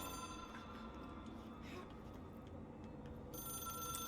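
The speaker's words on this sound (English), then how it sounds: "All this just to answer the phone." A telephone rings faintly in the video game Control, a steady electronic tone buried in a dense, low hum of room ambience.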